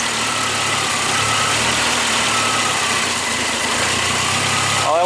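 A 26-year-old Suzuki Samurai engine idles steadily with a low, even rumble and constant vibration, running alone and close up, its original vacuum lines in need of replacement.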